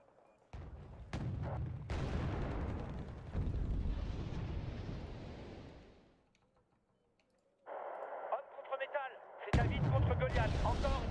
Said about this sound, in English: I guess the airstrike was kind of his last-ditch plan.